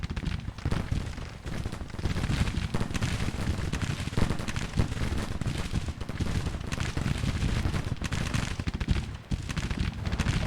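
Dense, continuous gunfire and artillery rumble from a Civil War video game battle at a railroad bridge, a steady roar of overlapping musket volleys and cannon booms with no pauses.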